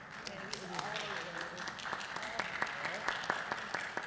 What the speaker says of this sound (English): board members, we need to stand and give this group a standing ovation